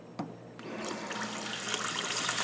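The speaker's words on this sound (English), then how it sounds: "So let me turn on the sink." Water from an emergency water supply system starts to run from a sink faucet with a click and then a steady, close hiss of flowing water that slowly grows louder.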